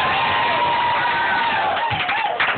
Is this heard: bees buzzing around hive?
no